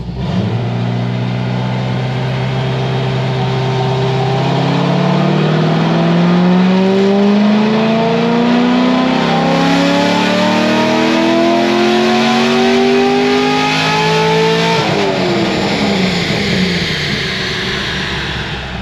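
A Corvette Z06 with an LS7 V8, stage 3 heads and cam, American Racing headers with cats and a triple-disc clutch, revving hard and loud up through rising pitch for about fifteen seconds before dropping back, close and continuous with no talking.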